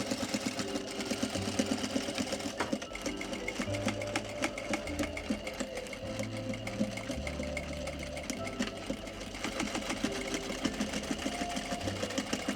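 A sewing machine stitches a belt loop onto a pair of shorts, its needle chattering in a steady rapid rhythm, close and continuous, with short changes in pace as the stitch runs on.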